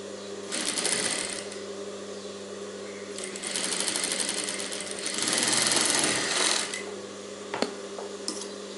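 Sewing machine stitching a blouse, a princess-cut style with a collar, running in steady bursts of rapid mechanical clatter with brief pauses between seams; close and clear, with no talk.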